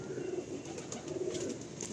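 Soft cooing from pigeons in a Madrasi pigeon loft, steady and low-level beneath a constant background hiss.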